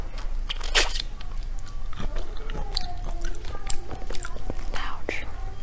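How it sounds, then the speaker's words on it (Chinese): Crab and shrimp are bitten and chewed close to the microphone, giving wet crunches and smacking bites that run steadily over a low background hum. "继续吃。"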